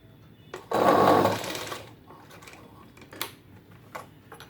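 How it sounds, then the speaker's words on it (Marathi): Sewing machine stitching the edge of a blouse: a short loud run of rapid needle clatter, then fainter intermittent ticks and clicks as the fabric is shifted. "हे आकार असे व्यवस्थित करून घ्यायचे अगोदर मग किनारी शिलाई मारायची"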